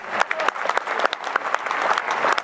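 Audience applause at the Saint-Raphaël international jazz festival, a sustained crowd clapping with sharp individual claps standing out through the whole stretch.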